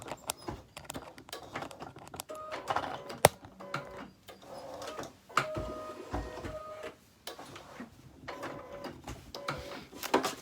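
A home embroidery machine stitches out a design in quick, clattering mechanical bursts with short pauses between them, close and fairly quiet.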